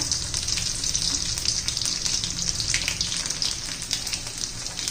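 Crushed garlic fries in hot oil with mustard seeds and cumin, giving a steady close sizzle with small crackles throughout and no talk.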